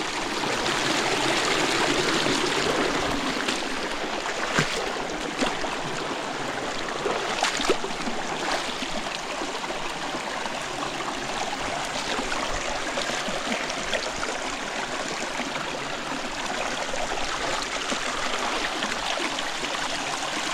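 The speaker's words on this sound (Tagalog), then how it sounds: "Ang lakas ng tubig dito sa ating Pangkabisig." A strong stream of water rushes at a natural spring, a steady, loud, broadband roar that carries on without a break for the whole stretch, with no voices over it.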